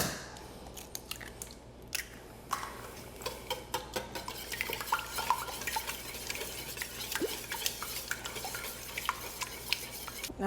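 Cake batter is whisked by hand in a pot, giving a steady run of soft wet stirring, scraping and metallic clinks from the whisk against the pot, close and busy with no talking.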